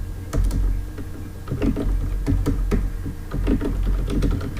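Python code being typed on a computer keyboard: a quick, uneven run of close, crisp key clicks that continues steadily throughout with no voice.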